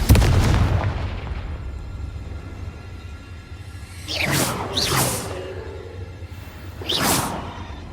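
A Confringo blasting spell from Hogwarts Legacy fires off as a loud low boom, then two whooshing bursts in quick succession, and a third swooshing blast a couple of seconds later.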